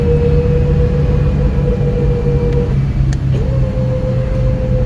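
A wrecked Comanche being dragged sideways during a recovery, heard as a loud, steady mechanical drone with a sustained engine hum that briefly dips and resumes, no voices.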